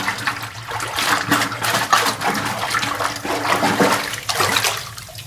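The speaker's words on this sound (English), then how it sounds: "we, after every step, go right to the rinse water to get all the solution out or the soap out or the chemicals" A brass horn is rinsed in clear rinse water during a wind-instrument cleaning process in a music shop. Water runs and splashes continuously and fairly close, with fluctuating gurgles and trickles throughout.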